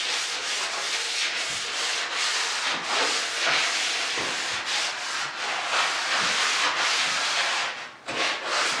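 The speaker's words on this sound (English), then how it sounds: "I have this medium sanding pad here and it's made by 3M and it's medium here. And you just wanna do like a light sand" Steady abrasive rubbing of a medium 3M sanding pad lightly scuffing varnished wood trim, a continuous close hiss with rhythmic back-and-forth strokes and no talking.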